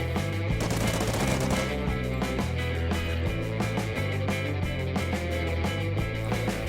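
An SMG fires in Call of Duty Ghosts in fast, continuous automatic bursts, a dense rattling chatter of shots that stays loud and close throughout, with no talking.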